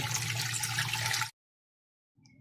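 Tap water pours into a pressure cooker holding two cans of condensed milk for dulce de leche, a steady close rushing stream that stops abruptly, followed by a brief quieter splash.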